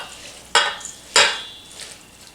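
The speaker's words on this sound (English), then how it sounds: "So I'm going to mix this with butter." Crushed pretzels being stirred with butter in a bowl: two short, close scraping strokes about half a second apart, each fading quickly, with no one talking.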